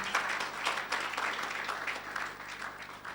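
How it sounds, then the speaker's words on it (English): An audience at a conference on bridging the digital divide with ecosystem services gives a round of applause for a speaker; moderate, steady clapping from a crowd, heard without talk. "Another round of applause for Roland."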